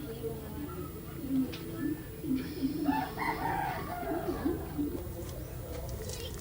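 A rooster crows amid a backyard domestic scene, with a couple of crowing calls standing out mid-clip over steady background noise and talk.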